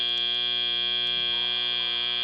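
End-of-match buzzer at a FIRST robotics district competition in San Diego, a loud, steady electronic drone held without a break.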